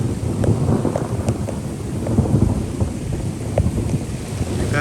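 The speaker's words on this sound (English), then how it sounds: "it's raining" A thunderstorm with steady rain falling outdoors, low rolling thunder rumbling continuously beneath the patter, with gusts of wind buffeting the microphone throughout.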